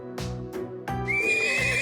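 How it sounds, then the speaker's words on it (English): A young horse in the Trails of Cold Steel video game, recently arrived from the North Highlands, whinnies in a few sharp bursts before a longer rising neigh, close and clear with a faint hoof-like clatter. "this horse recently arrived from the North Highlands"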